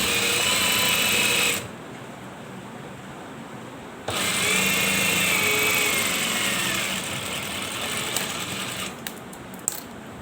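A sewing machine stitches along the edge of a lining strip, whirring steadily up close in two long runs separated by a brief pause, then slowing with a few faint clicks and knocks near the end; no talking.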